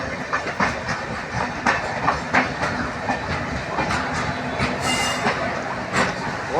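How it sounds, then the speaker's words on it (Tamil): A train rolls through Tiruppur railway station, heard close and loud as steady rumbling with rhythmic clickety-clack of wheels, metallic squeals and a brief hiss, continuous throughout. "ஓகே மக்களே, நம்ம ரயில்வே ஸ்டேஷன் உள்ளே வந்துட்டோம்."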